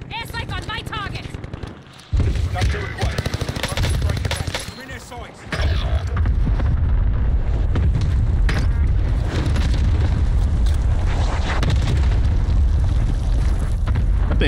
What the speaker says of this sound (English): Airstrike on my target.